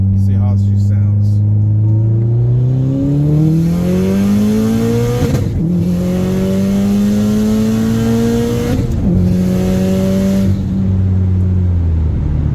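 A 500 WHP Subaru engine roars through a second gear roll, loud and close, its revs climbing in long sweeping pulls with a brief dip at each shift, continuous and strained throughout.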